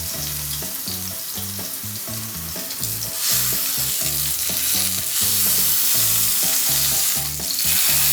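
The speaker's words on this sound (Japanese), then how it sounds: "そしてこの4面を焼いたらまたこの両サイド焼いてうまみを閉じ込めてあげます" Roast beef sears in a hot pan with a loud, steady sizzle, while rhythmic low thumps repeat underneath and the frying swells brighter midway through; no one speaks.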